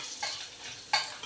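Coriander seeds, cumin and four dried red chillies frying in hot oil, giving a soft steady sizzle with a couple of brief stirring scrapes, close and fairly quiet with no talking.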